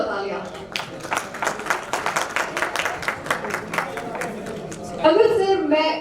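An audience at a company business launch event applauds, a dense patter of many hands clapping for several seconds before it fades out, followed by a voice speaking.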